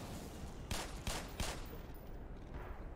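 A gun in the Black Mesa video game fires three quick shots about a third of a second apart, each a sharp crack over a dense, steady game background, with no talking.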